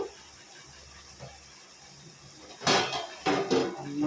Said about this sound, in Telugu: స్టీల్ మూత పడేలా ఉంది